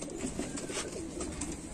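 Pet pigeons coo softly in a domestic loft, a faint, low warbling call set against a steady background hiss.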